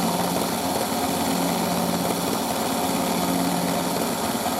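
AEG Öko Lavamat 86730 toy washing machine on its spin cycle, a constant high-pitched motor whine with steady hum and rattle, close and unbroken for nearly five seconds with no speech.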